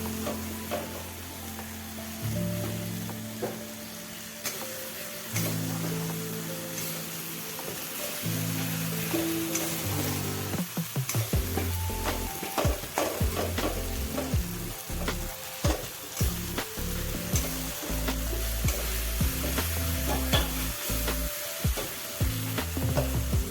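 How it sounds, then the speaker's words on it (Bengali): Tomato and masala spices with cumin powder frying and being stirred in a pan for an egg curry, a steady sizzle with repeated scraping and clattering stirs throughout, close and fairly loud. "মশলাটা ভালো করে একটু নাড়িয়ে নেওয়া হোক।"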